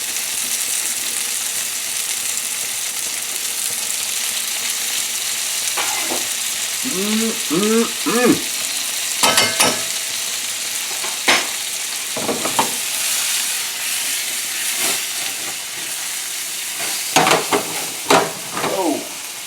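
Diced Roma tomatoes hitting a hot pan with garlic, a steady close sizzle and hiss running throughout, broken by a few scraping stirs of a utensil.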